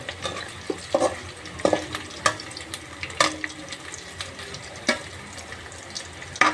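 Potatoes fry in a pan for an aloo fry served with menthi pappu, giving a steady soft sizzle broken by irregular stirring scrapes and clinks close by, with no talking.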